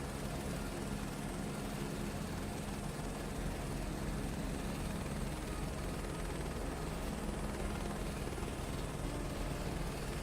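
An aircraft on final approach to land in Microsoft Flight Simulator 2024, a steady, dense engine and propeller drone holding constant and loud throughout, with no talk.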